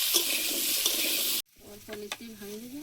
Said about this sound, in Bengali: আলুটা আগে একটু ভালোভাবে ভেজে নেব।